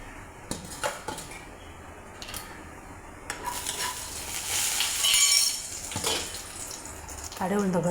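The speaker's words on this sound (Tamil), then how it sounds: "கடுகு உளுந்தம்பருப்பு போட்டு தாளிச்சுக்கோங்க." Mustard seeds and urad dal crackling in hot oil in a deep kadai, a steady broadband sizzle with a few sharp pops and stirring clatter, a voice talking briefly near the end.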